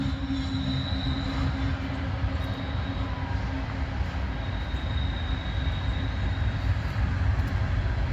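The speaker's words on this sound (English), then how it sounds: "Northbound are coming through, coal train." A coal train rumbles steadily past at close range, a continuous heavy roar of rolling wagons with a faint high squeal.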